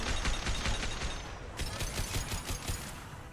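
Rapid gunfire from Mass Effect 2, a dense fusillade of repeated shots running steadily throughout at close range, with the bursts thickening partway through.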